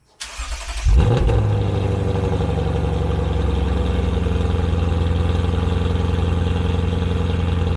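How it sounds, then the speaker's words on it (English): A Lexus IS500 engine cranks and fires on a cold start, then settles into a loud, steady, rumbling idle from a nearby exhaust, holding constant throughout. "the cold starts are fantastic. Clips right here."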